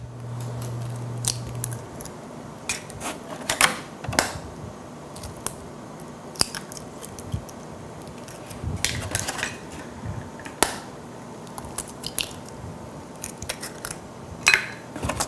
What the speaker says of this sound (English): once those are nice and creamed, we're going to add 4 eggs